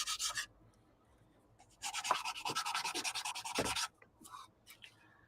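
Rapid back-and-forth rasping of a sanding stick on a plastic F4U model kit, two close bursts of steady rhythmic scratching separated by quiet pauses.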